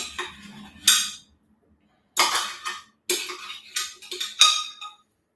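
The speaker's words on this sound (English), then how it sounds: "I've got to maybe get a spoon in and work it all out" A metal spoon scrapes and clinks inside a blender jar, working out a stuck vegan chestnut mixture caught around the bottom of the blade, in several short, close clattering bursts separated by brief pauses.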